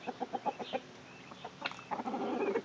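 Chickens cluck in short repeated bursts, close and moderately loud, with a quick rhythmic series early on and a denser run of clucks toward the end.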